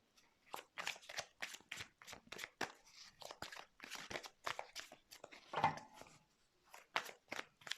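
Tarot cards are shuffled and handled for a reading, making soft, quick rustles, flicks and crinkling slaps in a steady uneven rhythm, close and quiet with no talk.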